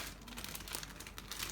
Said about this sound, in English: We finally released Pika from her plastic